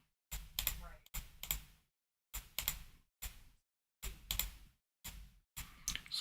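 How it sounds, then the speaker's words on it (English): Computer mouse clicking up close, sharp clicks in small bursts of two or three separated by pauses, fairly quiet with no other sound. "the clicking of my mouse clicking is pretty loud"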